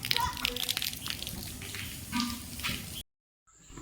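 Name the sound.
rainwater pouring down from above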